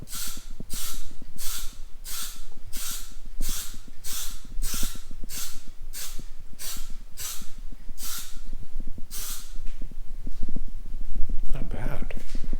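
Spray paint goes onto a car bumper for a Skyline V35 Infiniti in a mist coat, a close series of regular hissing bursts, about a dozen in a steady rhythm, with a voice talking underneath.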